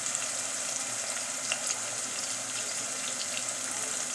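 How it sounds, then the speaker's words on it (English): Red onions frying in a pan while being cooked toward golden brown for homemade butter beans with coconut milk, giving a steady, even sizzle and crackle throughout with no talking. "We'll cook our onions until they are golden brown."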